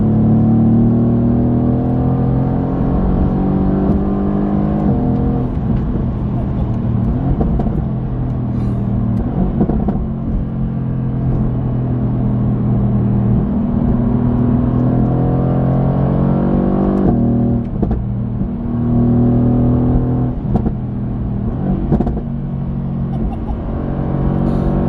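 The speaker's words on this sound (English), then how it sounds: "The AMG GTR sounds great right from the factory." A Mercedes-AMG GT R engine with its factory exhaust revs loudly and continuously, its deep rumble rising and falling through repeated throttle blips, close up and dominant throughout.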